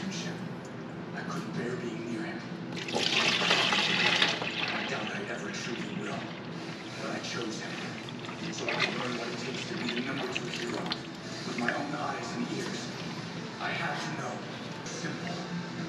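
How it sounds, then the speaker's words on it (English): Liquid ballistic gel is poured into a plastic container in a kitchen sink, a continuous trickling, splashing pour with a louder burst early on, faint throughout, with a person talking in the background at times. "I'm just going to go ahead and stick this in my sink and carefully pour this in to"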